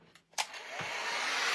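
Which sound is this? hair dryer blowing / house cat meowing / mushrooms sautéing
hair dryer blowing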